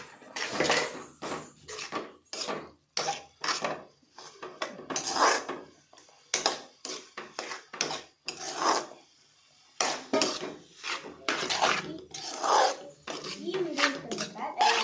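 A spoon scrapes and clinks around a pan as Maggi noodles are stirred, with repeated rhythmic strokes heard close up and a person talking over them.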